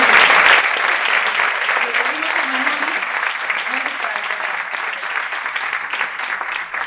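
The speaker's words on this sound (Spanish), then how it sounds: "con un gran aplauso, Alexis, te vamos a pedir que subas" An audience applauds Alexis at a literary short-story awards ceremony, loud and close at first, then settling into steady sustained clapping that fades slightly toward the end.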